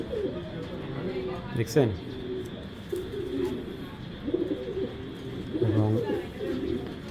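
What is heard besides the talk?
racer pigeons cooing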